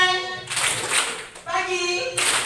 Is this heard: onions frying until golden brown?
no